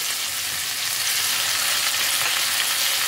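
Capsicum and tomato frying together in a pan, a steady close hiss of sizzling oil with soft movement underneath and no voices.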